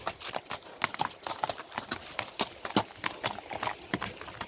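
A four-year-old black purebred horse, a stallion kept for ulak games, clip-clops with steady, crisp hoofbeats at a walking pace, close by with no talk.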